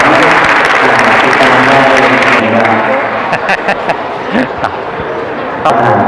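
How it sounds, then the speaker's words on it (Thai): Loud audience applause at a certificate ceremony, dense at first and then thinning into scattered claps, with voices and crowd noise mixed in underneath. "ขอเสียงปรบมือ"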